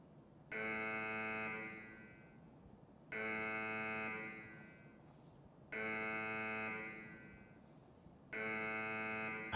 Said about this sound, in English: People keep setting off the alarm now because they want radios to come out.